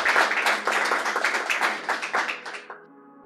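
An audience at a poetry performance bursts into applause, with dense, loud clapping from many hands that thins into scattered claps and dies away after about three seconds.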